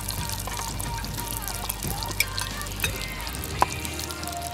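Olive oil, extra virgin, being poured for cooking in a kitchen, a steady liquid trickle over a low background hum with a few small clinks and drips.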